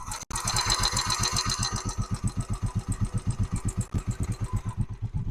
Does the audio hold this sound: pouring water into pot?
no